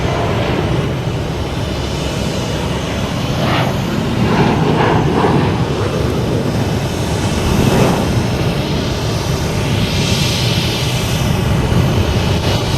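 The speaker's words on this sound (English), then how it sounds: "American Airlines E175 heading to LaGuardia." An American Airlines Embraer E175 regional jet near Boston Logan Airport, heading to LaGuardia, gives a loud, steady engine roar mixed with broad outdoor noise, with brief swells and a rising whine late on.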